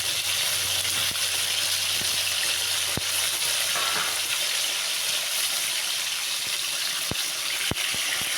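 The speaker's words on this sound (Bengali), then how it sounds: "তেল গরম করে নিয়ে দেব কেটে রাখা নুন মাখিয়ে রাখা পটলগুলো।" Salted, cut pointed gourd (potol) frying in hot oil, a steady close sizzle and hiss running throughout with a few sharp pops and crackles, no voices.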